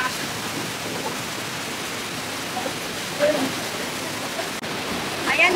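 Broad, steady rushing roar of the Rhine Falls waterfall in Switzerland, heard from nearby as a constant wash of water noise with faint voices of visitors in the background.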